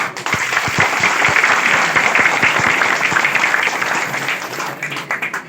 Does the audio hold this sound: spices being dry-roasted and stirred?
no